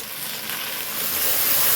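Frozen okra sizzles in a hot pot for a seafood gumbo, a steady close hiss of frying that swells slightly louder toward the end, with no voices.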